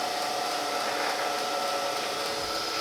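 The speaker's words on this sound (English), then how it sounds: "I've actually been grinding a little bit, so I've already got the machine warmed up" A surface grinder's wheel spinning after being warmed up, producing a steady, loud, continuous whine with no breaks or changes throughout.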